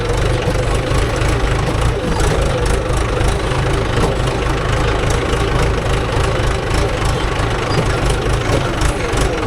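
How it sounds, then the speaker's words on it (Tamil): A Mahindra 575 DI tractor engine idles during a loading job, a loud, steady low diesel rumble with faint knocking that runs continuously throughout. "அதை அப்படியே நான் வண்டி ஐடியிலே விட்றேன்."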